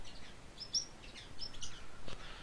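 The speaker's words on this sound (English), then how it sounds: "I don't know what my bird's doing. He's just standing at the corner of the cage and yelling." A pet bird calling from the corner of its cage, a few short sharp chirps and squawks spread over a couple of seconds, fairly faint and close in a quiet room.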